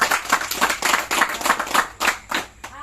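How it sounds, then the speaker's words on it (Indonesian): A small group claps briefly, with rapid, uneven hand claps close by that fade after a few seconds. "tepuk tangan dulu untuk dia."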